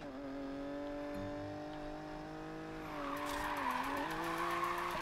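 Car drifting in Need for Speed Payback, a sustained tire squeal with a droning engine tone that shifts pitch midway, growing slightly louder and rougher toward the end, with no talking.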